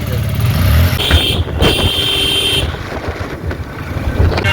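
A motorbike pulls away on a roadside after dropping off a passenger, its engine noise mixed with wind buffeting and steady outdoor traffic rumble, fairly loud and continuous throughout.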